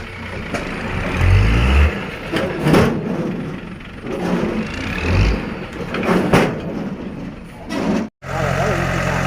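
A farm tractor's engine revs hard as it climbs a steep, rough slope, a loud, close, labouring drone that rises and falls in surges, with people talking over it.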